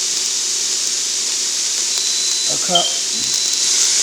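A pressure cooker releasing steam in a home kitchen: a steady, even high hiss runs the whole time while a person speaks briefly over it.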